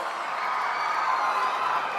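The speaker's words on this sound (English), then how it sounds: "A huge round of applause." Audience applause at a live political event, a steady dense wash of clapping and crowd noise held evenly for about two seconds with no pauses.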